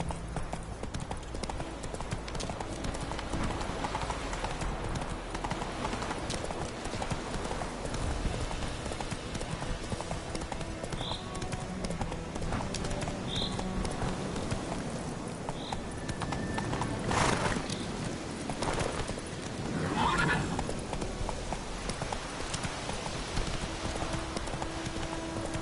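Roach, the horse in The Witcher 3, gallops with steady, rapid hoofbeats that run unbroken for about twenty-five seconds, and a brief whinny is heard partway through.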